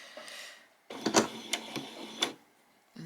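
A sewing machine stitches a back stitch on a peasant top: a short whir, a pause, then a close burst of rapid mechanical clatter and ticks that fades near the end.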